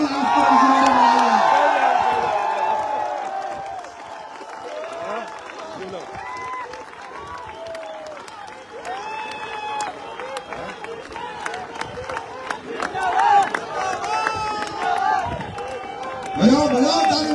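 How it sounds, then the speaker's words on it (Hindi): Audience at an AWPL business meeting clapping and cheering, a loud burst of applause that fades into scattered claps and whoops over several seconds, with voices in the crowd. "खड़े होकर तालियां बजाओ, आज तो किसी ने बुलाया।"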